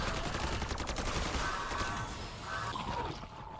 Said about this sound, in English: shoot his shoulders while the insta-kill's active and blow him up